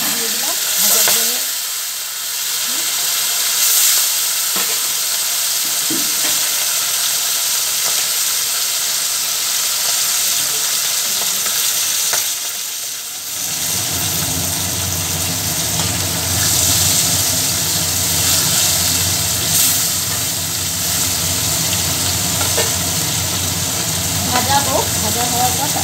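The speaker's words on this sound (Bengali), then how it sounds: "আবার 3টে মাছ দিয়ে দিলাম ভাজার জন্য।" Sarputi fish fry in hot oil in a pan, a steady close sizzle that swells into a loud, thick crackle about halfway through as three more fish go into the oil.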